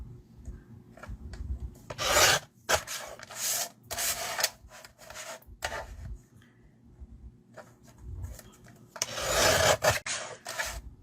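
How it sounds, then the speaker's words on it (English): Paper trimmer slicing cardstock during a stamping craft project: several short, rasping cutting strokes, close and fairly loud, separated by quieter handling sounds. "So we're going to trim it down to 4."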